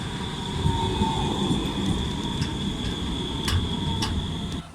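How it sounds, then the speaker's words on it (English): A tram in Germany rolls along steadily, with a constant rumbling ride noise and a faint high tonal whine, plus a few brief clicks from the wheels or fittings. "On the tram."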